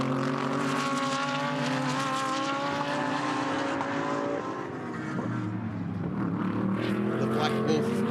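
GT race cars lapping the Hampton Downs circuit during a GT World Challenge Australia race, loud engines droning and shifting pitch as cars pass in a sustained roar, with a commentator talking over the racing.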